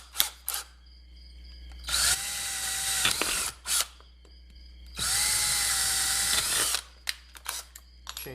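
Power drill boring out a pilot hole in a small pedal-board box, two long loud whirring runs with brief spin-ups and stops between them, heard alone with no talk.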